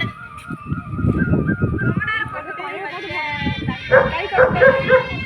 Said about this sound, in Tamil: உங்களை விட நாயே நல்லா கலைக்குதுடா. சவுண்டு கேட்குது.